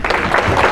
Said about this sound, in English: even getting a smattering of applause is appreciative